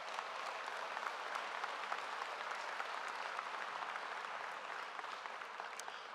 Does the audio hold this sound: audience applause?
yes